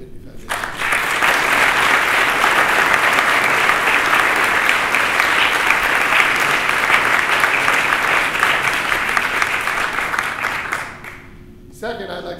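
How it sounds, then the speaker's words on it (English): Sustained audience applause at a law school lecture event, a loud, even roar of many hands clapping for about ten seconds before fading quickly to quiet. "Please join me in a round of applause for our friends at the Dave Pitney Foundation."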